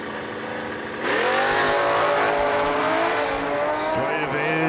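Drag racing motorcycles launch down the strip at the US 13 dragway's 60th anniversary meet, one engine roaring loud and close with pitch climbing steadily before a brief dip near the end.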